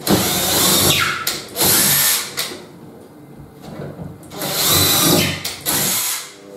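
A power drill drives screws into a piece of wood at close range, its loud motor whine coming in several short bursts with quieter pauses between.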